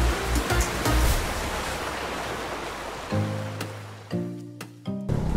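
Ocean waves at Lakei beach on Lombok wash in a steady broadband roar for about three seconds, then ease off and leave a quieter scene with a low steady hum.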